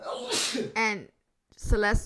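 One sharp, breathy sneeze bursts out close by, with a woman's conversational speech just before and after it.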